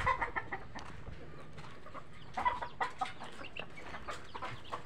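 Chickens cluck repeatedly on a poultry farm, a flock of hens producing scattered short calls at close range over steady barnyard background noise, with no talking.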